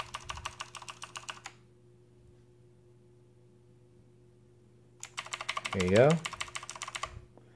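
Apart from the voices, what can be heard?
key presses on UtechSmart Mercury RGB mechanical gaming keyboard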